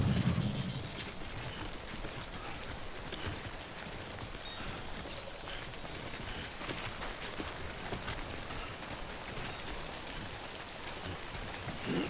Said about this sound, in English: This game will teach me to hate rain.